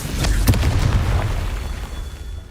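Confringo fire spell blasting in Hogwarts Legacy, a loud close boom with a sharp burst near the start, then a rumbling decay that fades out over a couple of seconds.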